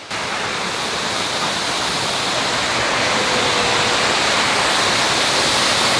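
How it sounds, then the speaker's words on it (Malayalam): The Josef Thaler waterfall at Schliersee in Bavaria roars up close: a loud, steady, unbroken rush of falling water that fills the whole clip without a pause. "നമുക്ക് വെള്ളച്ചാട്ടം തൊട്ടടുത്ത് കാണണ്ടേ,"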